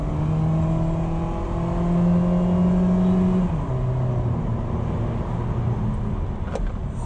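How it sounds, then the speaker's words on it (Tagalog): 2023 Mitsubishi Xpander GLS accelerating hard to highway speed, heard from inside the cabin as a steady engine drone climbing in pitch, with a shift partway through before it pulls on again. "highway speeds Let's give it a beans."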